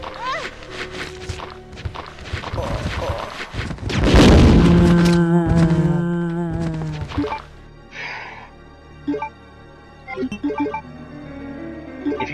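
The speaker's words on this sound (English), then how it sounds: "Oh shit, it's got to be grenades." Grenade blasts in the Resident Evil 2 video game: one loud, booming burst hits near the middle, surrounded by game sound effects, tonal music and scattered thumps that fade into quieter, sparse hits.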